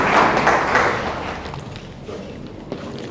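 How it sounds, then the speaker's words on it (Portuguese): Applause at a cybersecurity conference session, a burst of clapping from the audience that is loudest at first and then thins out over a few seconds. "quero que se juntem a mim numa salva de palmas ao Engenheiro de Portugal."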